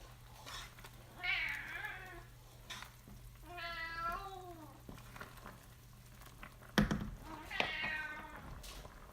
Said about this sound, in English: My cat will talk to you while I'm doing dishes.